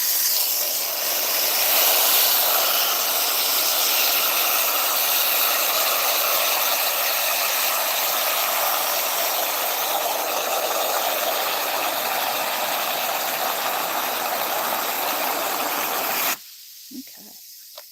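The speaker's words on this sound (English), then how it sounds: "I'm going to run some water here." Tap water runs in a steady, hissing stream at a kitchen sink, loud and unbroken for most of the stretch before cutting off abruptly near the end, with no talk over it.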